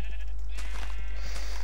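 A sheep in the game Minecraft gives a single loud, close bleat over a constant low hum.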